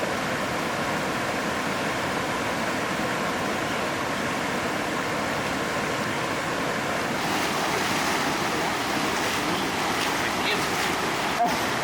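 A continuous, loud rush of mountain runoff water roars steadily, like a fast torrent or falls nearby in the Smoky Mountains, with some wind noise mixed in.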